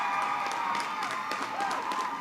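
Brainerd fans applaud and cheer after a save at a girls' hockey section semifinal against Moorhead, a dense crowd of clapping and shouts heard close, with a voice talking over it.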